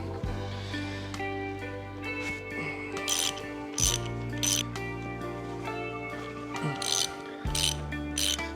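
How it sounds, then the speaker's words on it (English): Ratchet wrench clicking while breaking loose the fork cap bolts on a 1995 Honda XR250L motorcycle, repeated bursts of metallic ratcheting over a steady hum, fairly close and moderately loud. "next we need to break loose these cap bolts"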